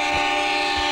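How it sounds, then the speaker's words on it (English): A train rushing past in a horror video game, a loud sustained roar with a steady horn-like tone and faint rhythmic thumps underneath, no voices. "Hey, there's a train track through my house"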